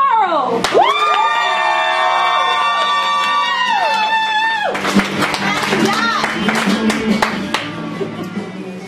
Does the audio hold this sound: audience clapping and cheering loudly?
yes